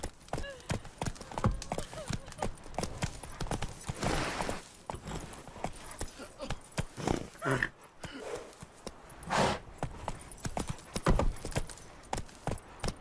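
Hooves of Roach, Geralt's horse in The Witcher 3, clip-clop in a steady galloping rhythm close by, with harness jingling and occasional speech over the hoofbeats.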